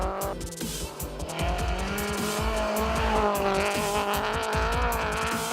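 A Volkswagen Polo R2 rally car runs a gravel stage, its engine revving hard and rising through gears with tire scrabble and skids, loud and close and continuous.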